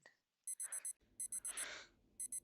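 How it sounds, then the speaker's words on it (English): An alarm clock rings in the video game Doki Doki Literature Club, sounding as repeated bursts of bright, rapid electronic beeping in groups of four, paused by a short burst of noise and a low hum, then resuming. "I turn off the alarm and sleepily sit up"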